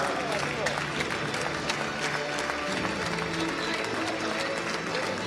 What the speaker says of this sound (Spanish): fuerte aplauso para nuestros medallistas, España, México y Francia